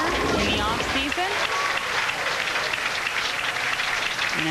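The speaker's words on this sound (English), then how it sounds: "And another clap from her mother." Audience applause at a 1993 LPBT Three Rivers Open women's bowling tournament, steady clapping filling several seconds under a commentator's voice.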